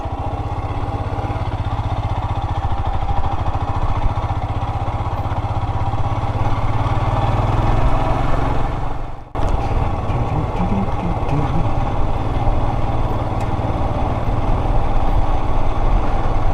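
A Royal Enfield Himalayan 411 motorcycle rides a trail, its single-cylinder engine chugging loudly and continuously with wind buffeting, briefly dropping out for a moment before the engine note resumes.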